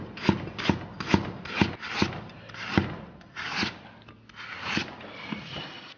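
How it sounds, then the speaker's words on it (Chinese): Knife slices ginger into thin pieces on a cutting board, about a dozen crisp, rhythmic chops and rasps, close and clear with no talk. "接下来切点姜，咱们把姜给它切成薄薄的厚片"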